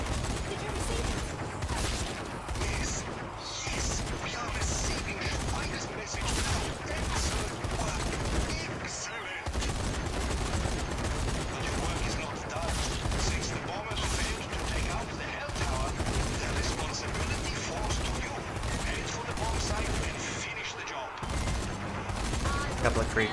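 Heavy gun turret in the Zombie Army 4: Dead War video game firing sustained bursts of gunfire, dense and loud, nearly continuous across the clip with brief gaps, mixed with game effects and a voice speaking.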